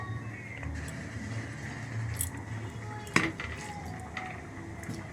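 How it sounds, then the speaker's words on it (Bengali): Rotis frying on a hot tawa griddle, with a soft sizzle under scattered metallic clinks and scrapes of utensils on the pan, one sharper clank near the middle. "আমি এখানে রুটিগুলো ভেজে নিচ্ছি যে তাওয়াটা তেতে গেছে"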